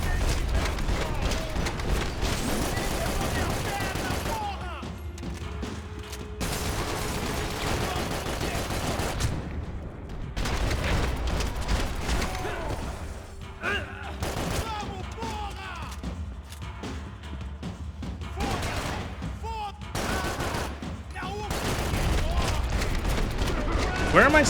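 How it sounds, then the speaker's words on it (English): Max Payne 3 gunfire, set in Brazil: repeated bursts of shots and automatic fire in dense volleys, broken by brief lulls, loud and close throughout, with a voice heard intermittently. "Okay, just shoot him until he dies."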